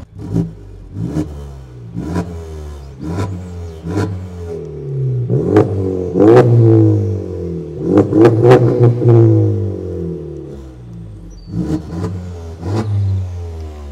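A Fiat Ducato engine revs repeatedly, each blip a sharp rising roar up close, in an uneven series of pulses with a longer sustained rev in the middle.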